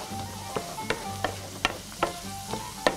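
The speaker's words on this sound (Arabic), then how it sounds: "هون اللوز عنا تحمر، بنضيف عليه الصنوبر شكل ورده" Almonds and pine nuts fry in hot oil with a continuous soft sizzle, punctuated by regular sharp taps or clicks roughly every half second, with no talking.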